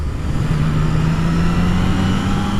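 A Yamaha XSR900 motorcycle engine while riding, a steady mid-pitched drone at light throttle with a constant hum, close and loud, with no talking.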